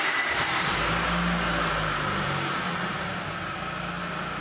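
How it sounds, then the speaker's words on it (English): A car engine idling steadily during a cylinder efficiency test, with a constant low mechanical hum and a slight swell in the first seconds, heard alone with no talk. "Start the engine and leave it idling."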